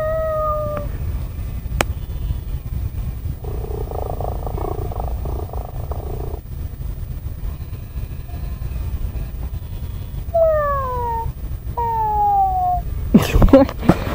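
A toy cat on a store shelf gives electronic meow-like calls, a short one at the start and two pairs of falling, whining calls near the end, over steady shop background noise.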